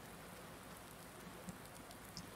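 Rain in the farming game Farming Simulator 19, a steady, even hiss of falling rain with a few faint droplet ticks, continuous and fairly quiet, no talking.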